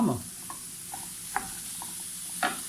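Minced beef, 250 g, stirred in a hot pan for a quiche filling, giving a soft sizzle with a few sharp scraping clicks of a utensil against the pan. Close and fairly quiet.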